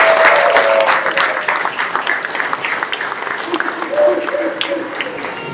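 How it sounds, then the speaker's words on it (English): Audience applause for a visiting crew at a day-two New York event, clapping that swells at first and then thins, with voices chatting over it. "If you give them a round of applause"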